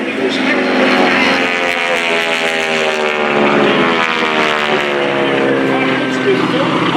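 A North American SNJ Texan propeller warbird built in 1942–43 flying at an airshow, with a steady, droning propeller engine roar and wavering harmonics that stays loud throughout, under a voice speaking.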